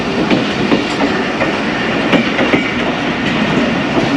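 A Karachi Express passenger train runs on the rails with a loud, continuous rumble and a steady clickety-clack rhythm of wheels over track joints, heard from on board.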